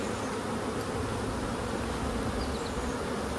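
Honey bees buzz steadily at a hive during a Demaree swarm-control inspection, a dense, continuous hum filling the whole stretch at moderate loudness with no voices.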